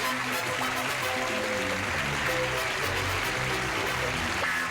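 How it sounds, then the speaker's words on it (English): A game show studio audience applauds a contestant's entrance, a steady, dense wash of clapping throughout with a band playing underneath. "while we're all applauding"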